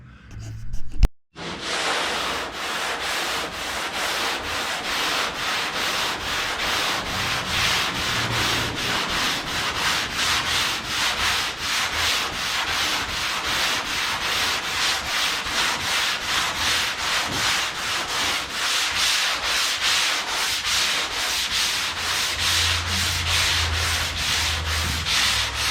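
Steady block sanding over a dent on a Chevrolet Nomad's body, a continuous abrasive rubbing that runs close and even for the whole stretch after a short knock at the start, with no talk.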